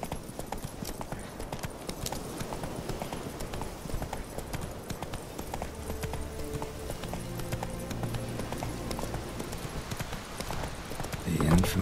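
A horse in The Witcher 3 gallops with a continuous rapid clip-clop of hooves at moderate volume, steady throughout, with a brief louder swell at the very end; a voice is heard at times.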